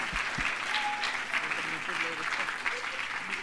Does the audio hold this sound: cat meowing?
no